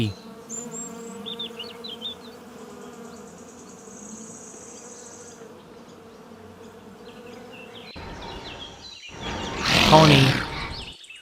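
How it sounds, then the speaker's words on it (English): A bee buzzing among farm animal sounds, a steady droning hum through most of the stretch, then a sharper, louder burst near the end. "Bee."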